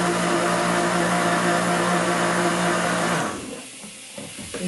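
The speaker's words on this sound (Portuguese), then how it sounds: "Vou ligar aqui o liquidificador." A kitchen blender whirs loudly and steadily for about three seconds, smoothing lumpy milk, then cuts off, leaving quiet room noise with faint clatter.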